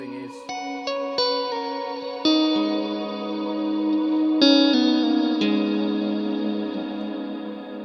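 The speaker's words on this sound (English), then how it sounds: "you freeze that reverb and give it like an infinite tail" Meris Mercury 7 reverb pedal freezing its reverb into a sustained infinite tail, as guitar notes layer in one after another over a shimmering chorused wash that holds and swells rather than fading.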